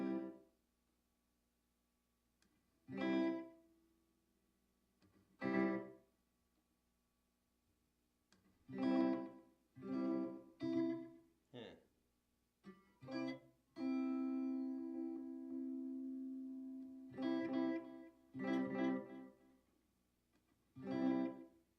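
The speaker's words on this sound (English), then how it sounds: "What if I turn it over to reverb and delay?" An electric guitar played through reverb and delay effects gives separate plucked notes and short phrases with gaps between them, including one long sustained note near the middle, each note trailing off gently, with no talking.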